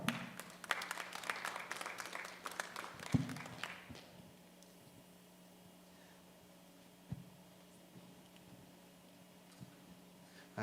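Applause from the audience at a natural bodybuilding show in Tucson, with dense clapping for about four seconds that quickly dies away, leaving a quiet hall with an occasional faint tap.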